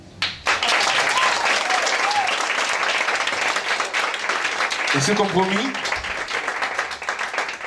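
An audience breaks into loud, sustained applause for a woman being honoured, a thick wash of clapping that carries through, with a voice speaking over it near the end.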